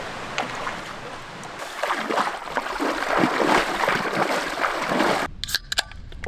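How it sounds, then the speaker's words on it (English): Paddling an old 17-foot canoe on water, with broadband splashing and swishing strokes building up, then a few sharp knocks near the end. "It's getting pretty tricky to navigate in the old 17-foot canoe."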